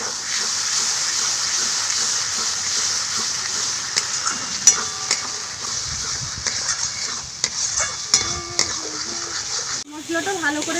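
Ground peanut paste is stirred into a masala frying in a pan, giving a constant loud sizzle with scattered scraping stirs, while a voice talks over it near the end.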